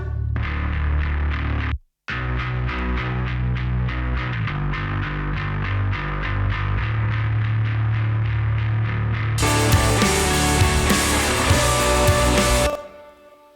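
A bass guitar played through the free Sounds Amp plugin chugs in a steady, driven rhythm. It cuts out briefly near the start and brightens into a heavier, fuller section near the end, loud and alone.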